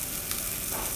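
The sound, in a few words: sautéing garlic and shallots in oil in a wok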